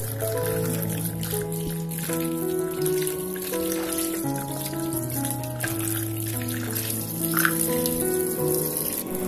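Garlic and bird's eye chilies are rinsed under a running tap, a steady stream of water splashing into a sink with clinks and shifting tones as the food is moved around.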